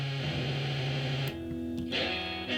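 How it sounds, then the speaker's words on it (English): A circuit-bent Behringer OD300 overdrive pedal gives a buzzing, fuzz-like distorted tone on sustained notes that shift pitch partway through, loud and steady with no talking. "this is turning this overdrive distortion thing into like a fuzz"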